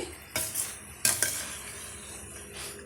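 Banana stem poriyal with grated coconut stirred and sautéed in a pan over medium heat: two bursts of spoon scraping around 0.4 and 1.1 seconds, then a steady soft sizzle, with no talk.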